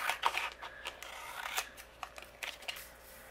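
Scissors snip and slide through a pink floral paper card panel during cardmaking, producing a few close, soft cutting crunches and rustles over about three seconds.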